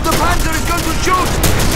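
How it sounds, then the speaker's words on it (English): A panzer tank fires in the Commandos Strike Force war video game, a burst of loud, sharp booming gunfire filling the short moment, with voices shouting in the background. "The panzer is going to shoot!"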